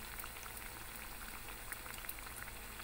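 Spinach bhaji deep-frying in hot oil makes a dense, even, bubbling hiss that holds steady and low in level throughout, with faint crackles and no voices.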